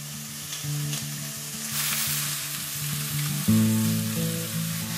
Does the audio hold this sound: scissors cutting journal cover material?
no